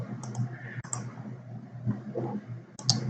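Several sharp computer mouse clicks from someone adjusting a drawing on screen, spaced irregularly over a quiet room background with low hum.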